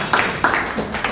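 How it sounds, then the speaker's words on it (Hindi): Applause welcoming a guest at a felicitation ceremony for a senior journalist, scattered claps from a small audience rising in a few bursts, moderately loud and brief. "तालियां बजा के आपका स्वागत करें भाई।"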